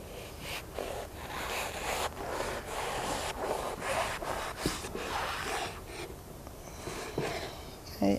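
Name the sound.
knife cutting a sponge into pieces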